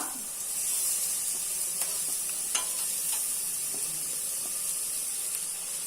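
Onion, capsicum, beans and carrot sautéing in a pan for Indian-style pasta, giving a continuous gentle sizzle and hiss with occasional faint clicks and scrapes of stirring, heard up close.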